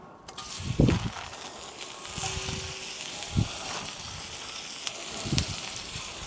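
Onions frying in burnt butter and oil on a coal shovel over a fire give a soft, steady sizzle with a few sharper crackles and pops scattered throughout.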